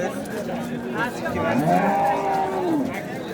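Cows at a livestock bazaar giving one long, close, rising-then-falling moo over a low murmur of market voices and general crowd noise.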